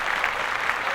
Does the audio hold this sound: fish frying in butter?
no